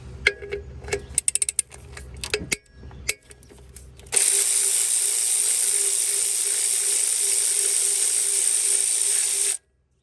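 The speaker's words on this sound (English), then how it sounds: "All right, just gonna go ahead and remove the 12s." Ratchet wrench backing out 12 mm bolts on a Honda Accord starter: a few quick clicking bursts at first, then a long, steady, continuous ratcheting whir for several seconds that stops abruptly, close up with no talk.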